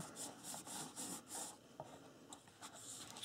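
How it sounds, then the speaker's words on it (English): Paper being burnished down by hand onto a wooden chest, a soft dry rubbing and rasping in several quick strokes, fairly close and quiet, with no talk. "And just continue doing that and burnish it down really good to make sure it sticks down."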